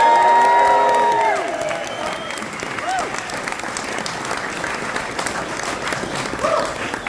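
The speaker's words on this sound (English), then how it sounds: "Let's give everyone a round of applause." Audience applause and cheering after a benefit rock show at the Troubadour, a dense wash of clapping with whoops and shouts, loudest at the start and carrying on steadily, with a sustained guitar or feedback tone fading early on.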